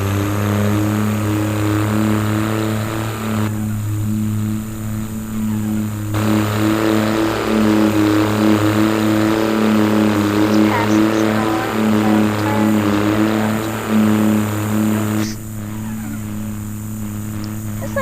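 A Dodge pickup truck's engine in Farming Simulator 25, droning steadily at a mid pitch with slight rises and falls in revs, running continuously and fairly loud throughout.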